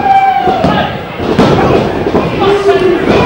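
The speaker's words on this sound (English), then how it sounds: "nails a back suplex of his own" A heavy thud of a wrestler slammed onto the mat by a back suplex rings out amid a roaring crowd, with a commentator talking over it.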